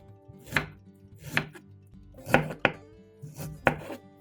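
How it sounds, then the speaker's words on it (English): A knife chops ginger on a cutting board in separate sharp knocks, about seven uneven strikes, close and clear with quiet between. "cut the ginger into small pieces like this"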